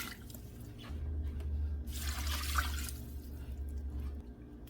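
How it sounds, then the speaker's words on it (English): Cold water poured into a large gumbo pot already holding seafood stock and tomato juice, a steady rushing splash for about three seconds, fairly close and alone without talk. "we're going to put 8 cups of cold water"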